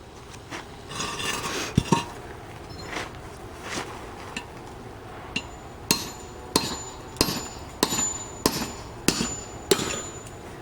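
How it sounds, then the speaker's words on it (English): A CPM 3V steel field knife with Rockwell hardness 62 chops into a cinder block, giving a series of sharp metallic strikes with ringing tails, spaced roughly every half second to a second, over a gritty background. "I would not recommend chopping up a cinder block with just any piece of steel"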